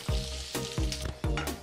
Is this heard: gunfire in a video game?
no